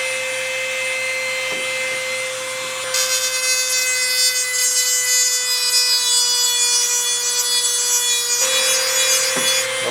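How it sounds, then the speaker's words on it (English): A small Dremel rotary tool grinds out steel rivets on a Piper Super Cub wing rib, a steady high whine that rises louder after a few seconds and then eases back near the end. "the best way to do it is with this little Dremel tool."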